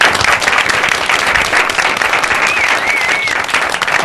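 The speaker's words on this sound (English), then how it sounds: "Round of applause for Leandra Ramm." An audience applauds a guest on a late-night talk show, dense steady clapping filling the whole stretch at close range, with faint voices barely showing underneath.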